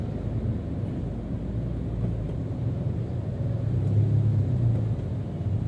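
Heavy road traffic on EDSA heard from inside a car, a steady low engine and road rumble that swells slightly midway, with no talking.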